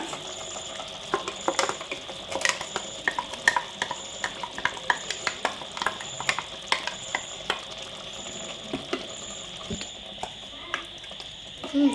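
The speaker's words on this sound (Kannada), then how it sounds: "ಇವಾಗ ರುಬ್ಬಿರುವಂಥ ಪೇಸ್ಟ್ ಹಾಕೋಣ." Ground masala paste fries in a pan for chicken biryani, with a steady sizzle and a spoon clicking and scraping against the pot in an irregular rhythm, close and fairly loud; a faint voice is briefly heard.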